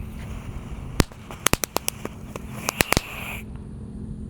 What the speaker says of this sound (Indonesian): Lanjut yang akan kita nyalakan, di sini ada tank Thor.